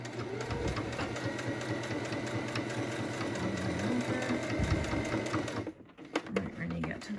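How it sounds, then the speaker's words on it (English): Sewing machine top stitching along the edge of a fabric face mask, a steady continuous mechanical whir running nearly throughout before a brief stop near the end, with a person talking over it. "I can top stitch along that edge, pivot it again"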